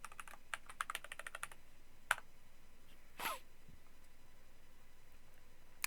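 A password is typed on a computer keyboard in a quick close burst of keystrokes, then a lone click and a softer final tap after a pause, all in an otherwise quiet room.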